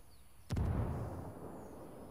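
A frag grenade explodes in the Ghost War video game, one sharp sudden blast after a quiet moment, followed by a rumbling, noisy tail that slowly fades.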